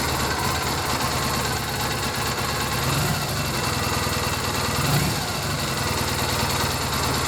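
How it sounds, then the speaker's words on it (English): A 2001 Triumph Bonneville motorcycle engine idles steadily without choke, a close, continuous rumbling throb with an even pulsing rhythm that holds throughout, no voices over it. "now it is idling with no choke"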